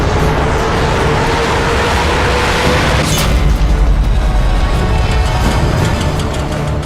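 A heavy, booming impact rumbles loud and close as a vehicle is taken out by a sniper bullet in Sniper Elite 3, with a sustained low roar and crackling debris.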